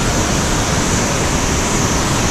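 Devi's Fall waterfall in Pokhara, Nepal, a steady, loud rush of falling water that fills the whole span without a break, with no voices over it.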